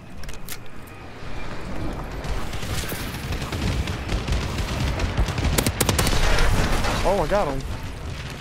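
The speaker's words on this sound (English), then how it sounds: "Friendly bombing run incoming" Gunfire and explosive blasts from a friendly bombing run in the Advanced Warfare Zombies video game, a dense, steady rumble of shots and booms that swells near the end, with people talking over it.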